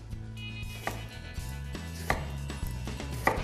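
A knife slices an eggplant into rounds on a board, with a few sharp chopping knocks standing out over a steady low hum close by, no talking.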